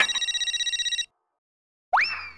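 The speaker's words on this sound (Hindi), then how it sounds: "सुबह सुबह इसका फोन।" A telephone rings in a fast electronic trill for about a second, falls silent, then a short rising electronic tone follows.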